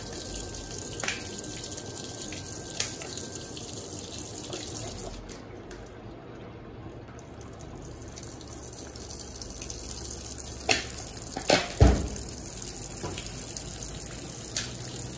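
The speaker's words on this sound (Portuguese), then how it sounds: "Vai começar a despejar o sabão." Water runs steadily into an Electrolux Turbo Aqua Jet LTA15 direct-drive top-load washing machine filling for a load of towels, a continuous rushing stream with a few brief drips and splashes near the end.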